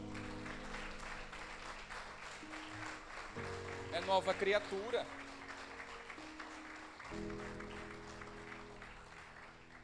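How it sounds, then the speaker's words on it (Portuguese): A church congregation applauds to praise Jesus during a sermon, a steady wash of clapping running under a preacher's voice and organ-like music for the whole stretch. "aplauda o Senhor Jesus"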